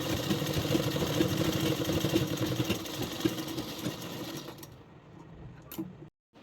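A sewing machine runs steadily through a straight seam on a blouse, a continuous close whirring that stops abruptly near the end with a short click.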